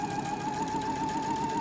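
A sewing machine hums steadily at close range, stitching elastic onto bralette fabric in one short continuous run with a sustained motor whine and no voice.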